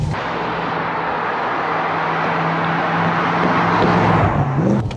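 Audi RS4 B7 with its raspy V8, heard from inside the car as a loud, steady engine roar pulling hard up to about 7,000 rpm, with a rising tone and a brief shift blip near the end.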